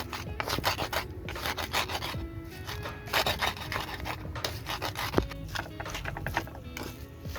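Spices are ground by hand into a smooth paste for an Acehnese rujak made outdoors in a garden, with steady rhythmic rubbing and grinding strokes, moderately close and fairly quiet.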